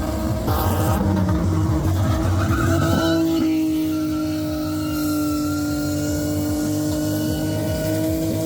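A car doing a burnout at a motorsport cone event: a loud, continuous tyre squeal over a hard-revving engine, with the pitch shifting partway through, close by and unbroken for the whole stretch.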